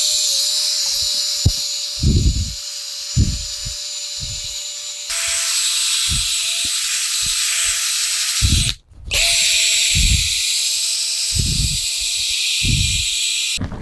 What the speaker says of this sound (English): And then I will buff this off with the buffing wheel